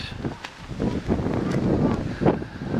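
Gusty wind buffets the microphone in uneven bursts at a campsite in Edale, a rough low rumble rising and falling for a few seconds.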